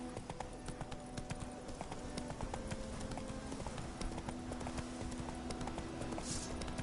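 Horse hooves clip-clopping in The Witcher 3, a steady, even rhythm of close hoof falls on the ground with game ambience behind.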